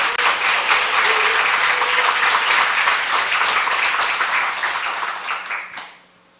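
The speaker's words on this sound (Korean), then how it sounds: "그렇게 하실 하나님께 영광의 박수 올려드릴까요?" A congregation at a church revival service bursts into loud, dense clapping that holds steady for several seconds, then thins and fades out near the end.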